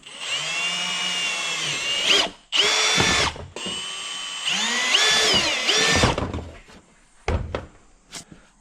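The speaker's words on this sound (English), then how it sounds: "I'm just going to remark those holes and get those drilled out." A power drill bores holes into a dash mount on a Polaris Ranger UTV, giving several loud whining runs that rise and fall in pitch, broken by short gaps and a few sharp knocks.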